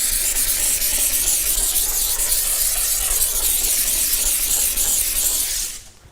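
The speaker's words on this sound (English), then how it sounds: "getting my steam onto that area" A steam cleaner sprays a loud, steady hiss of steam onto a car's wheels and arches in winter detailing, continuous for several seconds before cutting off abruptly near the end.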